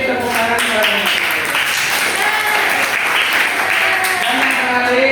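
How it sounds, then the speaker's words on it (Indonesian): Sustained applause from a classroom of students for one quiz group, steady and dense throughout, with voices chattering underneath the clapping. "Kita beri tepuk tangan kepada kelompok C."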